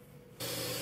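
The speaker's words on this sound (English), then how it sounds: "The technician arrives, pre-sprays the carpet, agitates the fibers," A technician pre-spraying carpet starts a sprayer partway through, a sudden hissing burst of spray that continues loud and steady after a quiet start.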